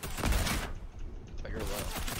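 Rapid gunfire in the Fortnite video game, a loud burst of shots in the first half second, then a short lull and more gun sounds with a player's voice over them.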